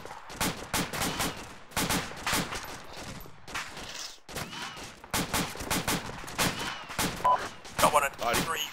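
Sustained gunfire in a high Arctic combat setting, bursts and shots repeating loudly with short gaps, mixed with shouted voices over the shooting.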